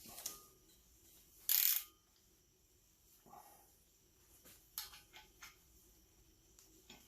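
A wrench works loose a double nut on the air conditioning part of a Volvo S40, giving faint, sparse metallic clicks and ticks close by. One sharp louder clank stands out near the start.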